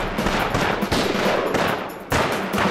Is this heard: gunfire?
yes